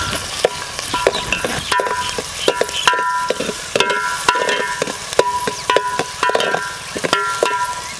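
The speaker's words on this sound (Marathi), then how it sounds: "आता ह्याच्यामध्ये घालायचं आहे पहिल्यांदा कांदा. कांदा चांगला आपल्याला भाजून घ्यायचा आहे." Chopped onion sizzles in hot oil in a pan over a wood-fired chulha stove, a steady close frying hiss broken by repeated sharp metallic clinks of a spoon stirring.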